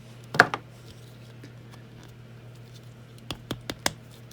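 Avatar: The Last Airbender action figure joints give sharp little plastic clicks, one near the start and then a quick run of four, close and crisp against quiet background hum.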